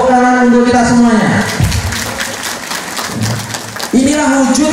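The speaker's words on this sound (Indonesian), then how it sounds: "Tepuk tangan untuk kita semuanya." An audience claps together at a large mosque religious gathering (pengajian akbar) at Masjid Nurul Hidayah in Kayen, Jogja. The applause lasts a few seconds, with a voice speaking just before and right after it.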